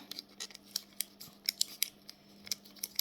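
Scissors snip open a trading card packet in a series of close, crisp, irregular cuts over a faint steady hum.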